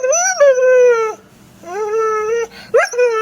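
A talkative dog howls and whimpers in drawn-out, rising and falling cries, with a short pause in the middle and a sharp yip near the end, close and loud with no talk over it.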